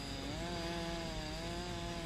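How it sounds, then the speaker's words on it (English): Lawnmower engine in the Lego Jurassic World video game, a steady buzzing motor drone with a slightly wavering pitch, held evenly at moderate-low level throughout with no talking. "Why is the lawnmower's not mowing the grass though?"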